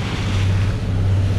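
Ocean waves wash steadily around a boat off Claver, Surigao del Norte, a continuous low surf rumble mixed with wind buffeting the microphone, close and loud throughout with no voices.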